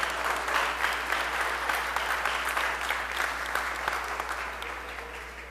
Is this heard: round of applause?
yes